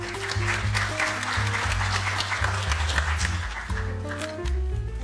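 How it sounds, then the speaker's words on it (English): A seated audience at a traditional court act indaba gives a warm round of applause, a sustained patter of many hands beneath a steady low tonal hum that carries on throughout. "May we give Professor Sifiso Ndlovu a warm round of applause"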